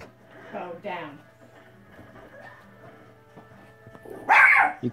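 A dog barks in a room where a video game is being played, a loud burst near the end after stretches of quieter talk and game sounds.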